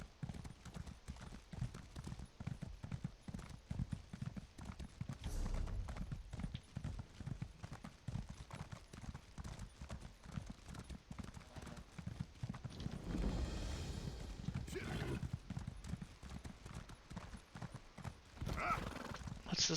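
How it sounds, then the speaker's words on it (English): A horse in Elder Scrolls Online gallops with steady, rhythmic clip-clop hoofbeats throughout, joined by an occasional neigh, with game ambience and music filling the background. "Guess get my horse to run around."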